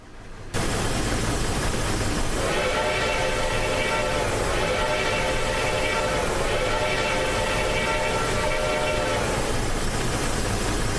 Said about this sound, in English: Bye-bye, little train.